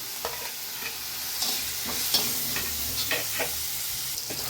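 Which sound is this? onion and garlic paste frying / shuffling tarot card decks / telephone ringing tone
onion and garlic paste frying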